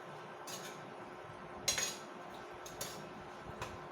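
Sayote being stirred in a pan makes faint scraping and a few sharp metallic clinks of the utensil against the pan, over a quiet kitchen background.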